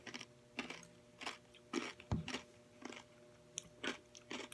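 Close, crisp crunching bites and chewing of a fruit and yogurt sandwich with strawberry, in irregular bursts against a quiet background.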